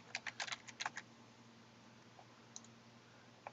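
A brief burst of typing on a computer keyboard, several quick close clicks at the start, then a near-silent stretch with a few isolated key taps over a steady low hum.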